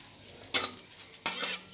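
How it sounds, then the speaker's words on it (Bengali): Mustard seeds and radhuni spice fry with a spoonful of turmeric in a pan for lentil dal, with two close bursts of scraping stirring and a soft sizzle between them and no voices. "সর্ষে আর রাঁধুনি ভেজে নিতে নিতে এর মধ্যে এক চামচ হলুদ দিয়ে দিলাম"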